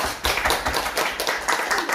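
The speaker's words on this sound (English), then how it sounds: "Let's have a big applause." Small group clapping after an icebreaker speech at a speaking club meeting, a close, brisk burst of applause lasting only a moment, no voices.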